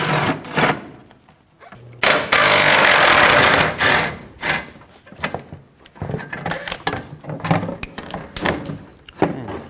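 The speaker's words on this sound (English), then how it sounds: "Use a 15mm socket." A 15mm socket removing bracket bolts from the impact sensor shield on a 2002-06 Chevy Avalanche: loud, close ratcheting clicks and metallic clatter in repeated bursts with brief pauses, heard without talking.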